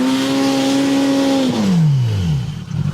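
A Polaris Pro R side-by-side engine revs hard in deep snow during a blizzard, a loud sustained whine that holds steady and then drops in pitch as it bogs down, close and with no talk over it.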